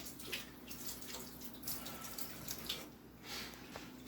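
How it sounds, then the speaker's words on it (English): A kitchen tap runs while someone rinses salt off their hands, a faint, steady water splash with small bursts and drips as the hands move under the stream. "I gotta wash some of the salt off my hands so I don't spread it all over the house."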